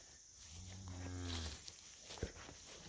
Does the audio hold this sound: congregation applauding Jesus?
no